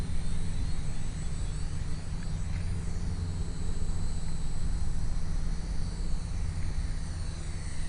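A Blade mQX radio-controlled quadcopter flies steadily outdoors, its small motors making a continuous buzzing whine with a low rumble of wind noise, constant in level and without pauses throughout.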